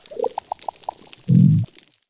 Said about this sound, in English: This is the sound of a coral reef that has undergone years of restoration in the coast of central